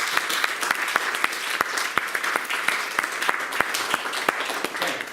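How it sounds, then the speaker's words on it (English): An audience at a cycling campaign group's annual general meeting applauds the trustees, with steady, fairly loud clapping carrying sharp individual claps that ring out above the mass of hands for several seconds. "can you give these guys a big round of applause,"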